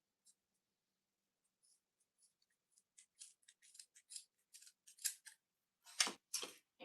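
Scissors snip through a dried loofah sponge, a run of soft, close crisp cuts that grow louder and denser toward the end, with a few sharp clips at the close.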